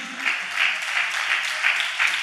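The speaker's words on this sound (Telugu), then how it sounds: "చప్పట్లు కొడుతూ దేవునికి స్తోత్రాలు చెప్దాం" A church congregation claps together in praise, dense steady applause with a loose repeating rhythm filling the hall, fairly loud and close, with no voices on top.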